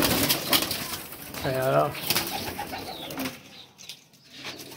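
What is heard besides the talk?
pigeons cooing and flapping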